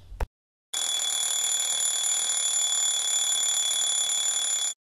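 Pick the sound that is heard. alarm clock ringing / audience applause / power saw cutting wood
alarm clock ringing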